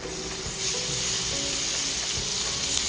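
Six cloves of minced garlic frying in melted butter in a pan, a steady close hiss and crackle of sizzling that swells slightly after the first half second and holds loud and even, with no voices.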